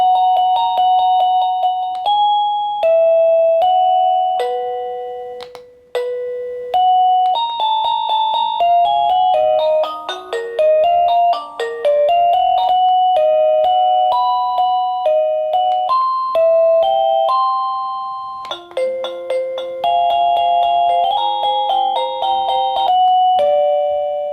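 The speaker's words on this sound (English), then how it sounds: "right over here, we're going to have different Chime noises" A Rebluum video doorbell plays a run of different chime tunes, one after another: clear electronic ding-dong and melodic tone sequences, loud and close, with short gaps between them and no talking.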